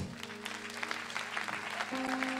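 Congregation applauding the choir at a church service, dense clapping filling the room steadily throughout, with a sustained organ or keyboard tone underneath and faint voices mixed in.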